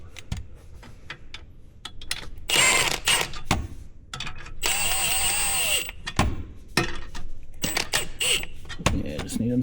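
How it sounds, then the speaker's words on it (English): A ratchet clicks in short bursts while hose clamps are tightened on a Whipple supercharger adapter for an S650 Mustang, between quiet pauses, with someone speaking occasionally. "And then you're gonna wanna snug these up."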